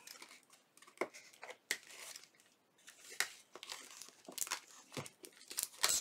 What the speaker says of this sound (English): Tore that up pretty good, didn't I?